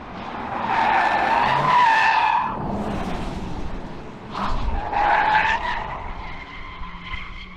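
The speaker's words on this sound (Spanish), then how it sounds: "en el modo Sport Plus, que era el modo en el que íbamos, la tendencia, la predisposición a derrapar atrás es evidente" A Porsche Macan EV in Sport Plus mode slides its rear, tires skidding and squealing loudly in two long screeching bursts separated by a brief lull, with road noise throughout.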